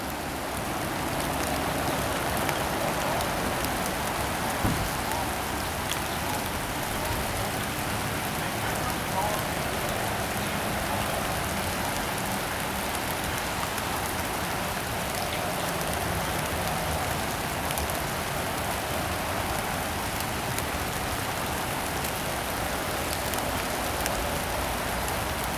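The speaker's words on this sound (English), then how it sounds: "a train is coming this afternoon on this rainy day, warm rainy day here on the CSX shortline sub." Warm rain falls steadily beside a CSX shortline railway, a continuous close hiss of drops on surfaces with no pauses throughout, and no train audible yet.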